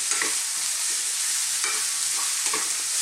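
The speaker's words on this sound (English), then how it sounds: "Let's saute these onions around just for about 3 or 4 minutes." Red onions with finely chopped garlic sautéing in a pan, a steady close hiss of frying with a few soft scrapes as they are moved around, no voices.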